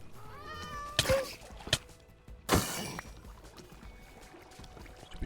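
A cat in Minecraft gives a couple of short meows amid other game sounds, with two sharp bright bursts around them. No speech is heard.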